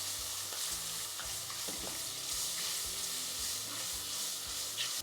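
Red tomato paste fries in a pan under a constant loud sizzle with occasional soft spoon scrapes.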